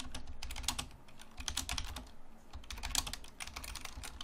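Steady, fast typing on a computer keyboard while entering C++ code, dense clusters of close, crisp key clicks in an irregular rhythm with no talk.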